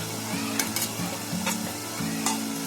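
Ground spices, chilli powder, coriander powder and turmeric sizzle in a pan of tomato, a steady frying hiss with a few scrape and stir sounds, close and continuous.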